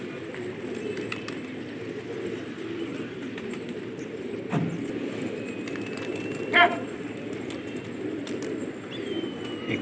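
Pigeons of decorative breeds, kept in a loft, give soft low cooing under a steady background hum, with a few sharp clicks and a brief bird call standing out near the middle.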